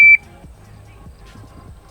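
A shot timer gives a single sharp, loud electronic start beep at the opening of a pistol draw drill, cutting off abruptly and leaving quiet room tone with faint low thumps.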